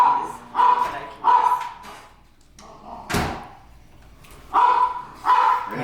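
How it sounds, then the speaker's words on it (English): A pet dog barks excitedly in the background of a home: bursts of several loud barks in a rough repeating rhythm, with a single door-like bang in between. "My dog is just going nuts in the background."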